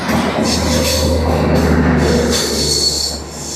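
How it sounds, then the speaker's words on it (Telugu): A steady low mechanical hum with a faint hiss above it from a WAP-7 electric locomotive hauling a superfast express at about 130 km/h, constant and fairly loud throughout. "ఇది వ్యాప్ 7 లోకయే"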